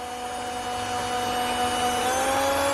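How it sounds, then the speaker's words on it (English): A cordless drill lapping an engine valve whines steadily at close range, its motor pitch drifting slightly as it spins continuously for a few seconds. "We'll use the cordless drill to lap it in."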